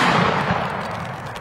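A shotgun firing a Winchester number 3 buckshot load, one loud close blast with a sharp broadband onset and a decaying roar that lingers through the short moment.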